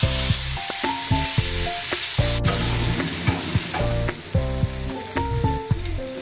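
Tomatoes hitting fried onions in hot oil give a loud, steady sizzle, broken by repeated clanks and scrapes of a spoon stirring against the pan, with no talking.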